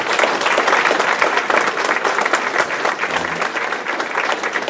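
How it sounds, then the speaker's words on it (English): Close, loud clapping from an indoor audience applauding council candidates at a township all-candidates meeting, dense and steady throughout. "If I could give everybody could give them a round of applause."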